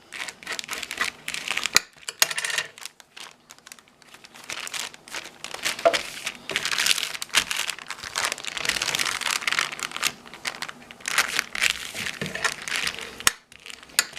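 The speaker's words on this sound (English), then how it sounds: "So fold each one of them down." Recycled paper bags are folded down into junk journal pages, giving close, busy crinkling and crumpling with sharp rustles and creases going on steadily, no talking.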